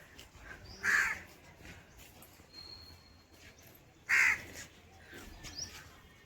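Two loud, separate caws from a crow, a few seconds apart, ring out over quiet outdoor ambience at a village temple garden.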